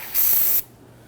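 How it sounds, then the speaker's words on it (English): A single short burst of aerosol solvent sprayed onto a towel, a loud hiss lasting about half a second, nearby, followed by quiet. "I'm going to spray the towel here with some solvent"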